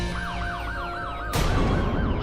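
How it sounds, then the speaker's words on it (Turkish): Police sirens wail in a rising and falling pattern, loud and close, then a burst of broadband noise takes over near the end, with no talking. "Bunlar polis sirenleri."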